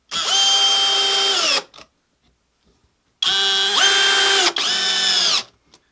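A power drill drives a screw into wood for a carpenter bee trap, two loud whirring bursts with a pause between, the motor pitch dropping as the screw bites.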